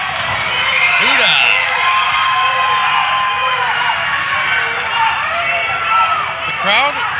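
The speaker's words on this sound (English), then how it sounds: "The crowd has made it known who they want to win." Loud wrestling crowd at an XWE event cheering and shouting for Kuda, a steady roar of voices with whoops and children's shrieks, with talk over it.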